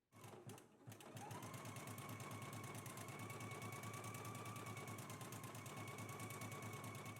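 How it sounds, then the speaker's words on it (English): A sewing machine runs a long, steady stitching pass along the seam of a DVF x Vogue V2060 wrap dress, with a moment of fabric handling first and then a continuous, close, even whir. "Let's go ahead and stitch it in place now."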